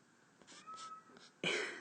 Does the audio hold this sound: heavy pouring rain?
no